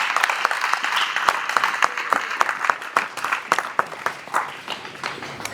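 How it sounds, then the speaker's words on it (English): An audience claps for students at a school gathering, the applause a dense, steady patter of many hands that thins out toward the end. "Can you clap for yourself"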